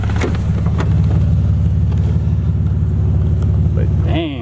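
BMW E36 engine idling steadily with a low, even rumble throughout, close by, before cutting off near the end as a voice briefly starts.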